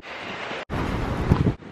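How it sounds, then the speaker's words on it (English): Strong wind buffets the microphone on a mountain hike up Lion's Head in Cape Town, a steady broadband roar broken by a brief gap and then gusting louder, with no voices. "So I would be lying if I said it wasn't windy."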